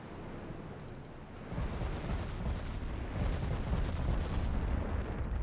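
Multiple light-cruiser 6-inch and 4.1-inch naval guns firing in Ultimate Admiral Dreadnoughts, a dense rolling barrage of overlapping booms and rumbles that builds and stays loud, with faint clicking above.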